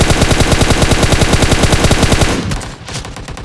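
Minigun fire in PUBG Mobile: a loud, rapid, evenly spaced stream of shots for about two and a half seconds, then cutting off into a fading tail and quieter background.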